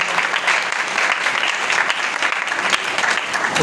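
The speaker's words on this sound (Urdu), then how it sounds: "سو آئیے خداوند کے جلال کے لیے زوردار تالیاں بجائیں گے" Loud, sustained applause fills a church congregation at a Urdu-language fellowship service, a dense, even roar of many hands clapping at once with no break.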